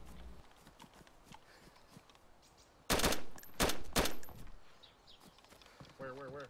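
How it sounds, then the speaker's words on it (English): Gunfire in a multiplayer zombie shooter: a tight cluster of loud, sharp shots in two or three quick bursts, standing out over quieter game ambience, with a voice speaking briefly near the end. "That was me just shooting a zombie."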